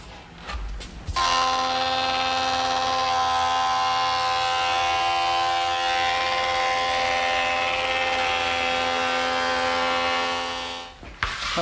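An old pine board runs through a surface planer taking about a sixteenth-inch pass off its face: a loud, steady mechanical whine with a sharp onset after a brief start, holding evenly for roughly ten seconds before cutting off.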